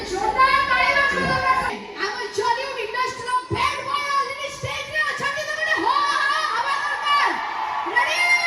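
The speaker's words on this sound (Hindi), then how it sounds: "बहुत भीड़ लगी देखिए" Dense crowd noise at a jatra open-air theatre event, with children's voices, shouting and cheering mixed into a steady loud murmur throughout.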